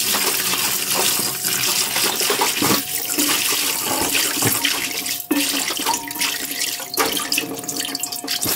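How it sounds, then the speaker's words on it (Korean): Spinach from a small bunch rinsed under a running kitchen tap, a steady loud rush of water splashing into the sink with leaves being swished through it, continuous throughout with no talking. "깨끗한 물이 나올 때까지 한 서너 번 계속 씻어야 될 것 같아요"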